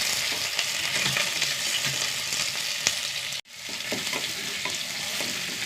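About ten small onions fry with curry leaves in a pan, giving a steady, close sizzle with faint stirring scrapes. There is one sharp break about midway before the frying hiss returns. No one talks.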